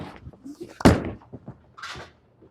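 A bowling ball strikes the pins with one sharp crash, heard amid nearby chatter and voices at the lane.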